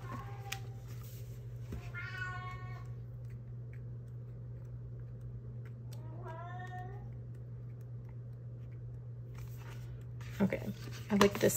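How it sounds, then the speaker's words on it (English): A house cat meows twice, clear drawn-out calls a few seconds apart over a steady low hum indoors, followed by faint rustling. "And here comes my cat."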